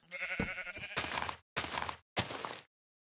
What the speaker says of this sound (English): What's up, sheep? What you doing, sheep?